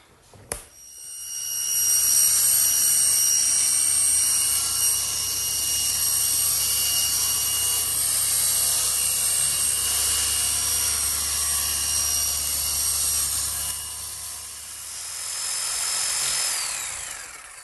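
An electric jigsaw cuts a slot in a wooden workbench top, a continuous high buzzing rasp held steadily for about fifteen seconds before winding down, close and loud with no talking.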